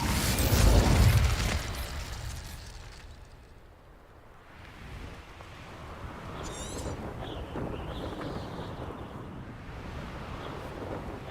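An Incendio fire spell in Hogwarts Legacy goes off with a loud whooshing burst and a deep rumble, then fades into a quieter airy roar with a few faint crackles and chimes over the following seconds.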